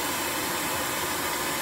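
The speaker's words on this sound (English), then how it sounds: "I'm just blowing down the boiler now" Steady, loud broadband hiss of steam blowing down from the boiler of a Romulus model locomotive, a continuous even rush with no pauses throughout.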